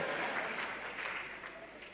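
Steady applause from a group of hands clapping together at a seminar, a dense, continuous patter of claps at moderate level filling two seconds without pause.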